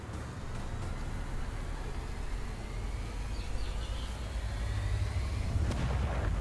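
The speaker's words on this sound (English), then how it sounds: "Now that's an explosion I can get behind." Reactor containment failure explodes in the video game Bombshell, a steady roaring rumble of blasts and crackling debris sustained throughout, building slightly louder toward the end.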